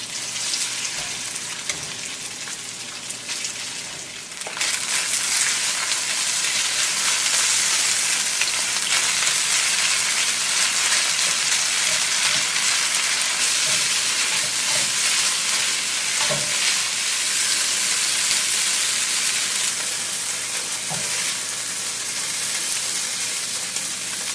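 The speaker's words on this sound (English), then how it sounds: "add a little bit more of avocado oil to my wok, and fry the next batch of beef" Beef fries in avocado oil in a wok, a loud, continuous sizzle and crackle that swells after a few seconds and keeps up steadily with no talking.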